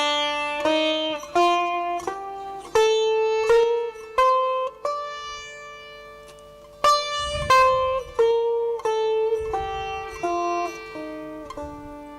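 A scale of minor (komal) notes played on a sustained melodic instrument, one clear note after another climbing and then descending, with some notes ringing into the next. There is no talking.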